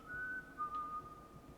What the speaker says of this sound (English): can you whistle more so I know where you are?